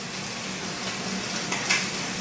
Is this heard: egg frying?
yes